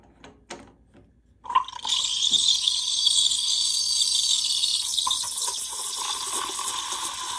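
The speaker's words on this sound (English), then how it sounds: "Now I'm going to deliberately keep the steam wand very superficial." An espresso machine's steam wand held too shallow in milk bursts into a loud, steady hissing screech after a few soft clicks, spitting large bubbles and staying harsh and close for several seconds.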